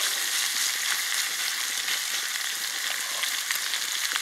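Catfish cooking over a campfire at a lake, a steady bright sizzle of frying that runs without a break, close and fairly loud, with no voices.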